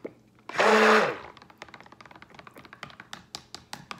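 A tool scrapes soap colorant off the side of a container, a short grinding burst followed by a run of light, irregular taps and scrapes close by.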